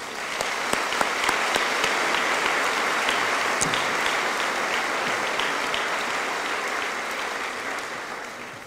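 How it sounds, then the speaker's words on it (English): Audience applause at the Lake Mills High School Class of 2015 graduation ceremony: a dense, sustained clapping from a large crowd that holds steady for several seconds and then begins to taper off at the end. "Let's give them all a round of applause again."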